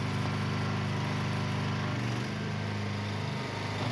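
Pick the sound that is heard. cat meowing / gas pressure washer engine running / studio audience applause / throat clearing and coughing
gas pressure washer engine running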